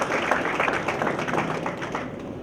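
An audience at a medical excellence awards ceremony claps in a dense, steady burst of applause lasting the whole moment, moderately loud and without speech.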